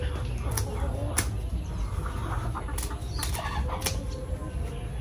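Brief bursts of a turkey's wings flapping against a steady background rumble, several quick flurries spread across a few seconds.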